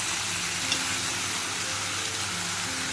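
Steamed potatoes stirred into poppy seed paste over low heat, a soft, steady sizzle with faint scraping, quiet and continuous without talk.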